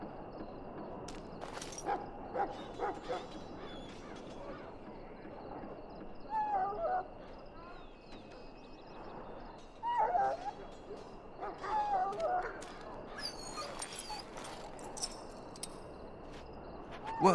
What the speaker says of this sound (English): Now I can treat the dog properly, poor fella.